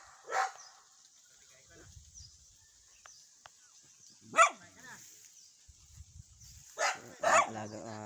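A pet dog gives three separate barks spread over several seconds against a quiet background, with faint bird-like chirps between them.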